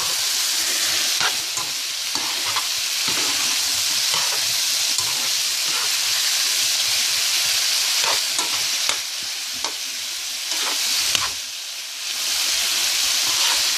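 Shrimp frying in a pan for a Creole shrimp fricassee with coconut milk, cooked with green pepper, sizzling in a steady loud hiss with occasional stirring scrapes and pops, no talking.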